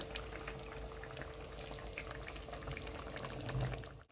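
Raw mustard oil is poured into a simmering katla fish curry, a soft continuous liquid pour and bubbling wash heard close and fairly faint, fading out at the end.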